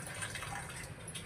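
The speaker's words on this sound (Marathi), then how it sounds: "अर्ध पाणी राहिलंय ते आपण स्ट्रेन करून घेऊया" Cooking water poured off cooked rice through a strainer, a soft, close trickle and splash of liquid, faint and continuous for about a second.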